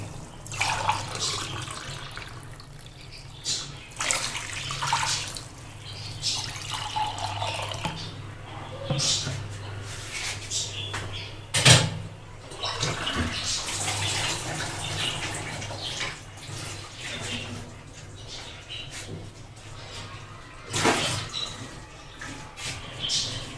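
Water splashes and pours into a cooking pot with spiced masala for chicken tikka pilau, a continuous running wash with a few louder splashes, while a person speaks over it.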